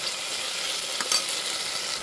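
A tomato and potato mixture sautéed in a pan gives a steady, gentle frying hiss, with one short stirring scrape near the middle and no talking.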